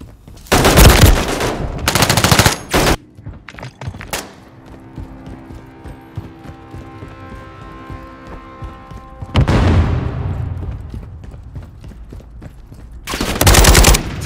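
Machine gun fire in Call of Duty Modern Warfare III team deathmatch: loud bursts at the start, a quieter stretch of ambient game sound, then another heavy burst near the end.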